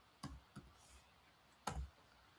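Three sparse, quiet key clicks on a computer keyboard, the third slightly stronger, with pauses between strokes and no talking.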